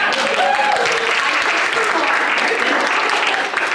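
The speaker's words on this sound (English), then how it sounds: "let's give her a round of applause" A room of people gives a sustained round of applause at the close of a presentation session, with dense, steady clapping that holds at an even loudness throughout.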